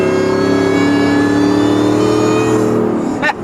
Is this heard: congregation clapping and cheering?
no